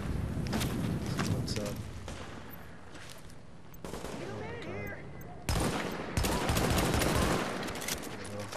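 Gunfire aimed at an enemy in The Division, with bursts of sharp shots and rapid volleys spread through the stretch, fairly loud and close amid game effects.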